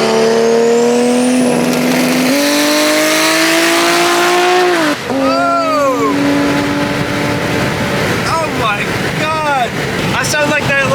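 A Toyota Supra roars loudly past at speed, its engine note sweeping in pitch with sharp Doppler drops and bursts of revving, close and dominant throughout.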